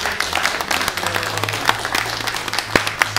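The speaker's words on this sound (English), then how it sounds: "I want to give everybody a round of applause" Audience applauding at the close of a group session, a lively burst of clapping with scattered individual claps popping out, moderately close and sustained.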